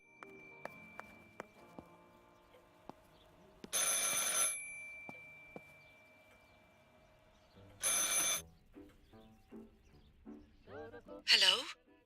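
A telephone rings in the video game Martha is Dead, two separate bursts of ringing a few seconds apart after some soft clicks and steps, with a brief voice at the end.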